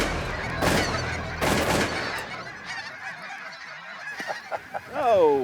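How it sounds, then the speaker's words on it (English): Geese honk repeatedly as ducks and geese fly in together over an Alberta waterfowl hunt, loud calls near and overlapping, after two sharp bursts that sound like gunshots early on. "The ducks and geese coming in at the same time."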